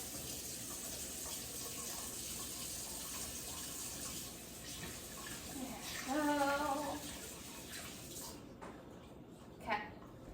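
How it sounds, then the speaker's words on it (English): Hands are washed under a running tap, a steady quiet stream of water with a brief splashier patch midway, while a person talks. "I'll wash my hands real quick"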